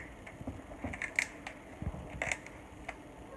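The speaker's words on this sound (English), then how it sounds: "I'm going to take and I'm going to slit my lobster over the top." Dull kitchen scissors snipping through a lobster shell over the top of the tail, a run of close, dry crunching clicks and snaps in an irregular rhythm.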